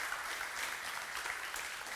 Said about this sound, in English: can I have an applause for the people behind the scenes?